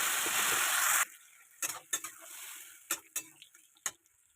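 Tomato hits hot oil already spiced with bay leaves, dried chilies and panch phoron, setting off a loud, hissing sizzle for about a second that cuts off sharply, followed by scattered utensil clicks and scrapes.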